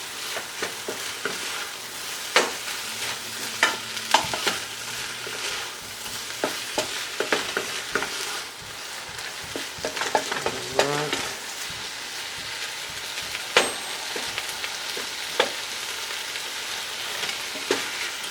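Canned jackfruit is stirred and cooked down in a hot pan, a steady low sizzle broken by irregular scrapes and knocks of the utensil against the pan, close and moderately loud, with no one talking.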